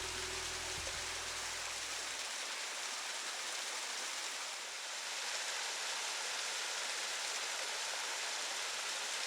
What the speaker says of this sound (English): The trail eventually dead ends into Fern Falls, which cascades over a rock outcropping bordered by sword ferns.